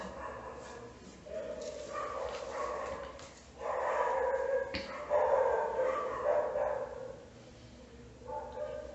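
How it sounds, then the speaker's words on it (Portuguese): A dog barks and whimpers in a run of yips and woofs, fairly close, with no talking. "Pausa para os latidos."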